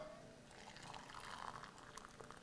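Hot water is poured into a heat-resistant cup of bouillon, making a faint, steady splashing trickle that swells slightly midway and stays quiet throughout.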